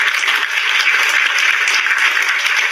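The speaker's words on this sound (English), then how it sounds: "listen to all of that canned, genuine applause" Canned audience applause on a quarantine-era online talk show, a dense continuous wash of clapping, steady and loud without speech.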